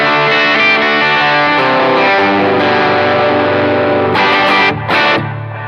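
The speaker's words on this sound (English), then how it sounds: "This is kind of my stock sound with it." Gibson SG Standard electric guitar through its stock amp tone, played loud and distorted with sustained chords and a thick, chorused shimmer, stopping in short gaps near the end before ringing on.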